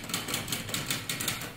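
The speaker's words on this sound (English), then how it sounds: "I have the old typewriter." An old typewriter in an abandoned French castle is handled, giving rapid light mechanical clatters and taps in an uneven run, fairly close and alone.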